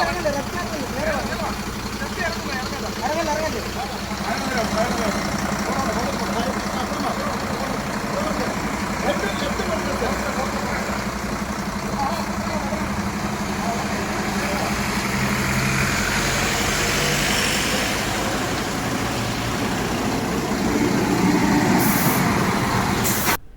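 A stuck lorry's engine runs steadily while it is pulled out of mud at night, a continuous loud rumble with air-brake hiss, under a voice speaking throughout.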